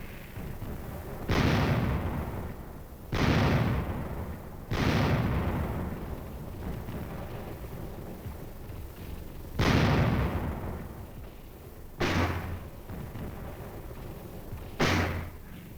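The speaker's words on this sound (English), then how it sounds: "4 artillery battalions, supported by napalm bomb-carrying aircraft, were brought up to support the assault." Artillery batteries fire in Korean War combat footage, with six heavy booming blasts at irregular intervals, each followed by a long rumbling decay.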